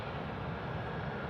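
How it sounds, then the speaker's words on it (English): A Qantas Boeing 717 airliner taxis out for departure at Sydney Airport at night, a steady, even engine roar heard from a moderate distance with no pauses. "The 717 now from Qantas coming out here for a departure at Bravo 2"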